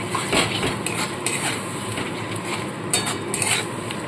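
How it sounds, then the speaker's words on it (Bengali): Fish rezala with ginger-garlic paste being stirred in a pan, a steady close scraping and clinking of a utensil against metal with a soft sizzle underneath, no talking. "আদা রসুন বাটাটা দিয়ে দিলাম দিয়ে ভালো করে আবারও কষাতে থাকবো"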